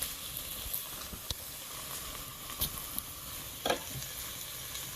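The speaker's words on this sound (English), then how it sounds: "we're just going to give the onions a little stir. And let them cook away" Onions frying in a pan, a steady close sizzle and hiss with a few scraping knocks as they are stirred.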